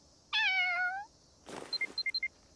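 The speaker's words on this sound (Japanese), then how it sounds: "猫、キャット、" An anime cat gives one clear, drawn-out meow up close, followed by a short run of light chiming blips, with no one talking.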